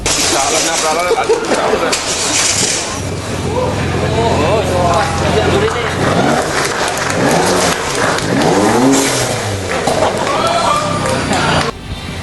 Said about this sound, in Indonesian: Launching ini dibuka langsung oleh Rektor dengan mencoba langsung mobil Lowo Ireng.